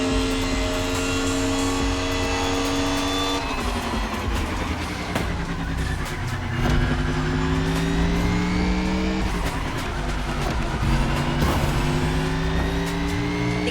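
Race cars roar through a long event in The Crew Motorfest, engines revving and shifting continuously up close with rising and falling pitch sweeps, a dense, loud and unbroken wall of motor noise.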